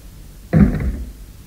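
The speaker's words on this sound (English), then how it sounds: "Go out and close the door." A single dull thud as a door is shut close by, a short heavy impact that fades quickly, with no speech.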